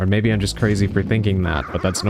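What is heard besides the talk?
No distinct noise like a dog, phone or traffic.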